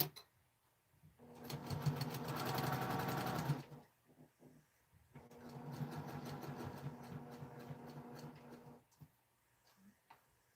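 A sewing machine stitching fabric strips runs in two sustained bursts of rapid, even needle chatter, close and clear, separated by a short pause with light handling noises.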